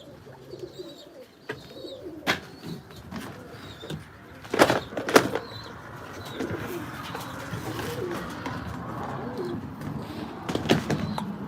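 Birmingham Roller pigeons cooing and calling nearby, with a few sharp knocks and clatters like a loft door or feeder mixed in, steady soft cooing throughout and no speech.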